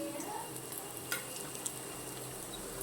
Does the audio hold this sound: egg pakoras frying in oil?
yes